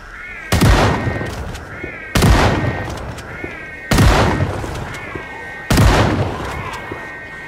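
Four loud, evenly spaced shotgun blasts from the Project Zomboid video game, each with a sharp booming attack and a short ringing decay, fired roughly every second and a half with no talking.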